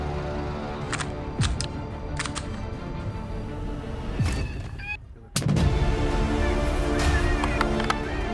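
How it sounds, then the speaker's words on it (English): Gunshots ring out in the rugged northern wilderness during a hunt for coyotes, a few sharp reports spaced seconds apart with echoing tails, one loud close blast near the end, over an ongoing background of noise and music. "The sound of gunfire echoes through the rugged wilderness of the northern United States"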